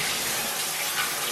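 Hotel room shower running after a button press, a steady hiss of spraying water, close and even, with no voices.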